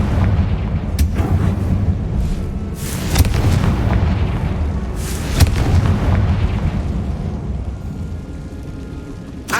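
A Confringo blasting spell explodes in Hogwarts Legacy inside a tomb, a run of heavy booming blasts with sharp cracks rolling over a loud, sustained low rumble.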